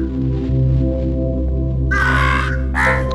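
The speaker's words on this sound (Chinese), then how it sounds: "走开走开，乌鸦，臭乌鸦，走开！" Crows caw in the puzzle video game Monument Valley: two harsh, raspy bursts near the end that rise loudly over a steady, droning game soundtrack.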